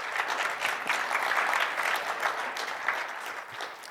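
Conference attendees clap in a moderate, even round of applause that swells slightly and then tapers, heard at a distance in a large hall.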